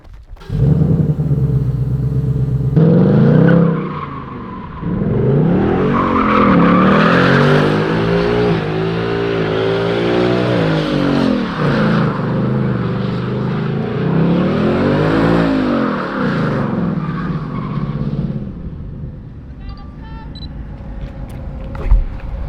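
A Mustang's engine roars and revs continuously while tyres squeal and skid through long drifting turns, loud and close, easing off near the end.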